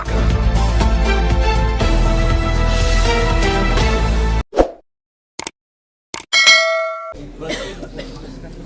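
A notification bell icon sound effect follows a loud stretch of music: after a pause come a few sharp clangs and plops, then a bright ringing ding that fades out.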